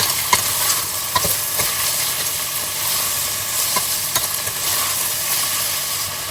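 Onions fry in hot oil with garam masala, a constant close sizzle and hiss punctuated by occasional spoon clicks and stirring sounds, with no talk over it.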